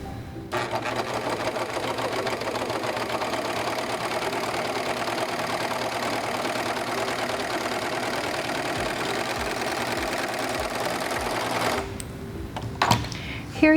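A Singer 14CG754 three-thread serger runs an overlock stitch at stitch length 3, a steady fast mechanical whir and chatter that holds for about eleven seconds before stopping, followed by a few handling clicks.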